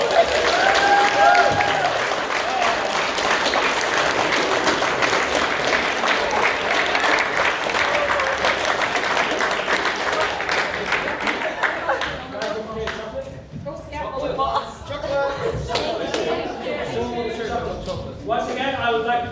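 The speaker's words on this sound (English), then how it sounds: "Let's all give them a big round of applause." An audience at a FIRST LEGO League regional competition in Coventry claps in a dense, loud round of applause for about twelve seconds, then thins out into scattered, fading claps.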